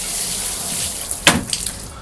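Hot water runs steadily through a shower water filter, a continuous hiss with a brief splash and gurgle midway.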